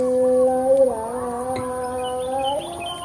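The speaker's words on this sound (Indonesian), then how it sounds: "Ini isinya murai batu Jawa KW." Clear, sustained white-rumped shama song with steady whistled tones and a few rising notes, close and fairly loud over a faint background hum.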